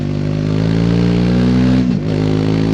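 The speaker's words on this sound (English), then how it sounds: "It's a great sounding engine." A 2024 Triumph Speed 400 motorcycle engine revs on the road, a loud, close, steady drone that holds its pitch, then dips sharply as the throttle is closed near the end.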